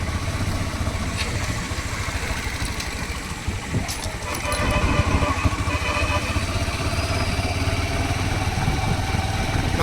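A motorcycle engine runs steadily while riding along a road, a continuous mid-level drone with wind noise that swells slightly louder in the second half.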